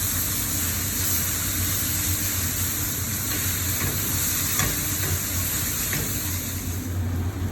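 A tomato masala, made with sliced tomatoes, sizzles and bubbles steadily in a pan, a constant close frying hiss with a few soft clicks and no voices.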